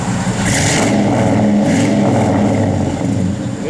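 A 1970 Chevrolet Chevelle SS engine revs loud and close, a continuous throaty rumble that holds steady with slight rises in pitch, with no talk over it.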